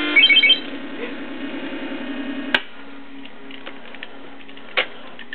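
Atari 2600 Breakout game sounds: a rapid burst of electronic beeps at the start, then faint, quieter blips and two sharp clicks, fairly low in level.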